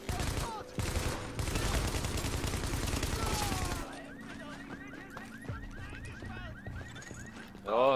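Rapid automatic gunfire in The Division, dense loud bursts for the first few seconds that then break off, leaving quieter scattered game sounds and a final sharp burst at the end.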